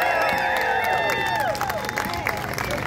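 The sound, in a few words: audience applause for veterans and first responders at rally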